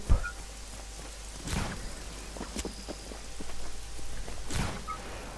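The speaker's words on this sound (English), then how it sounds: "And there's also rain as well, so the graphic effects is not bad at all." Rain falling in the open-world game Just Cause 3, a steady soft hiss throughout with a couple of sharp, louder splashy bursts; no talking.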